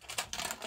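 Keys strike on a 1942 Remington portable typewriter: a few quick, faint mechanical taps in a brief burst.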